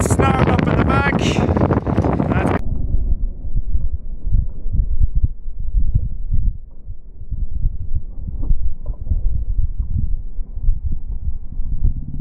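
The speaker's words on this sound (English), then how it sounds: "Let me give you an idea of the state of the wind today." Strong outdoor wind buffeting the microphone as a low, uneven rumble with irregular thumps, following a brief stretch of someone speaking at the start.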